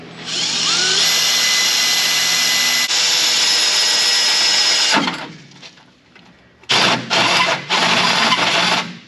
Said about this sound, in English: I'll run this on slow because 3-inch hole saw grabs pretty hard.